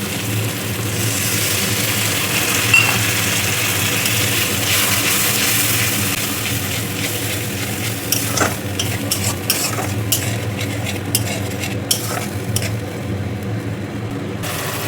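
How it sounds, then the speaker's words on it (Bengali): Ginger paste frying in a pan with chili and onions, a continuous close sizzle broken by scattered scraping and stirring clicks, with no voices. "লঙ্কাটাও ভাজা হয়ে গেছে, এখন আমি আদা বাটাটা দিয়ে দিচ্ছি"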